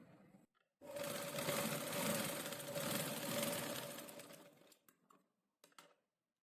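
Sewing machine stitching fabric, a close, fast whirring run of needle strokes lasting about four seconds, then slowing to a few separate clicks and a short final burst.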